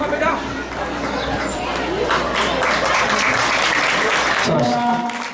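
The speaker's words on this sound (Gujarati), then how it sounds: "તાળીઓ સતત વાગતી રહેવી જોઈએ" Sustained audience applause fills a felicitation ceremony hall, a dense steady clatter of many hands with crowd chatter mixed in, loud and continuous throughout.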